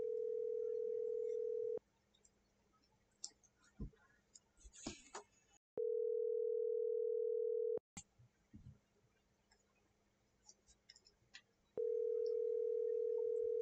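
A phone call goes unanswered as a steady single-pitch ringback tone sounds in long separate bursts with silent gaps between them, and faint breathing and rustling can be heard during the pauses.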